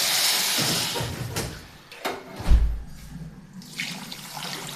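Boiling water pours and splashes into a pot for a few seconds, a rushing gush with a deeper splash midway, then fades off.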